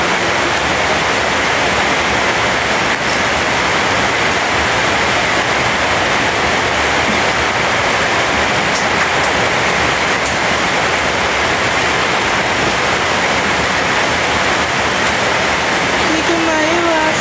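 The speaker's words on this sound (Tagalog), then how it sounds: "Grabe naman ang ulan, di ba?" Heavy rain pours steadily as a dense, continuous hiss, loud and unbroken throughout, with faint voices briefly audible near the end.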